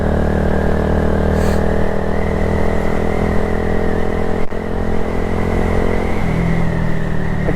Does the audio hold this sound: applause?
no